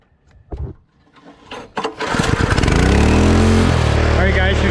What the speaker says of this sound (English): we got the engine fired back up